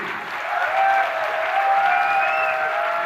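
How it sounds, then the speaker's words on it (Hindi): An audience at a large rally applauds, a dense, steady wash of many hands clapping that swells and holds for about three seconds, loud and close, with no talking over it. "कितनी तालियां होनी चाहिए?"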